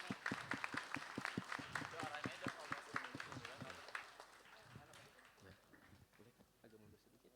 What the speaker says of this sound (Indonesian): Tepuk tangan untuk Pakel 65.